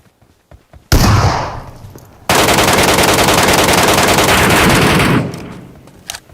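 Loud, continuous automatic gunfire in the battle game Metro Royale, opening with a short burst, then a sustained rapid stream of shots for about three seconds before it cuts off, close and dominant with no talk.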